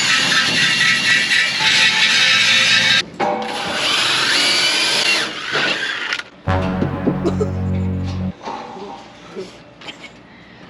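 Power tool whirring at high speed while buffing upholstery parts for a 1966 Chevy C10 truck, loud bursts with pauses, followed by lower grinding and people talking nearby.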